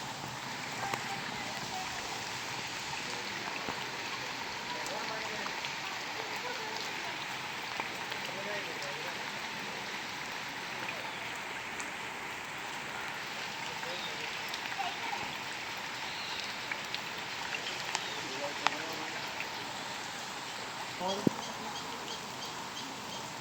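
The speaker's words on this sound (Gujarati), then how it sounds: "વરસાદની મોજ માણે છે" Rain pours steadily at Sakkarbaug zoo in Junagadh, a continuous even hiss lasting throughout, with faint bird calls and occasional murmuring voices in the background.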